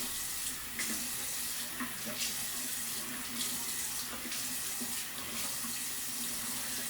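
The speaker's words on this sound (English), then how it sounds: "So I always start off with warm water." Warm water runs steadily from a bathroom tap into a sink for a facial cleansing routine, a close, continuous splashing stream with brief bursts of heavier flow and no talking.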